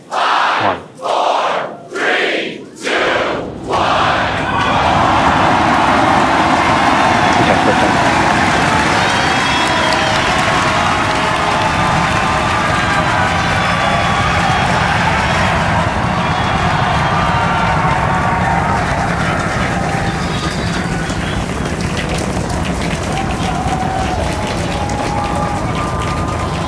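A SpaceX Starship rocket lifts off on Flight 6 with a sustained, loud roar that swells after a few sharp bursts and fills the rest of the clip, mixed with a cheering, shouting crowd.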